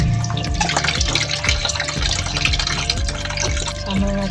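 Tap water runs and splashes continuously while vegetables for kimchi are rinsed, with clattering knocks and bumps of produce and dishes in the sink sounding throughout, close and fairly loud.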